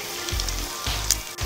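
Shredded chicken with chili sizzles loudly in hot oil as it fries dry for Indonesian abon ayam, the crackle swelling and easing in repeated waves as it is stirred.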